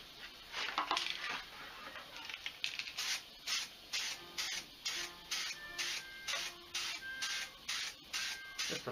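Repeated short bursts of spray paint coating the inside of a fiberglass clone trooper armor part, about a dozen evenly spaced hisses close by, with small clinks between them.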